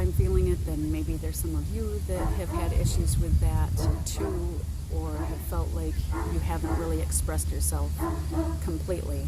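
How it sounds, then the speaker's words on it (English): A big neighbor's dog barks in repeated yips and bow-wows under continuous talk from a woman, the barking moderately close and persistent throughout. "I'm sorry about the dog barking."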